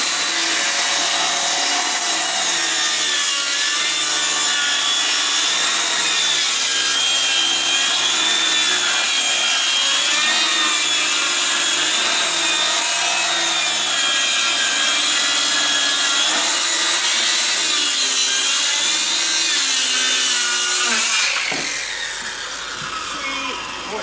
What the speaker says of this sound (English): I'll just cut through the wood, not the table as well